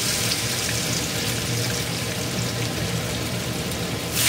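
Potatoes going into a hot pan with panch phoron, giving a loud, steady, dense sizzle that stays level for the whole stretch with no voices.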